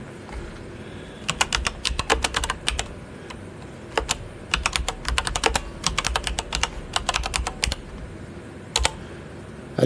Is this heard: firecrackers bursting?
no